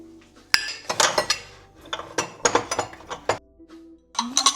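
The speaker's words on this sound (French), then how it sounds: "On va ranger les assiettes." Ceramic plates clink and clatter as they are stacked and set down, a string of sharp knocks and rattles close by with short pauses between.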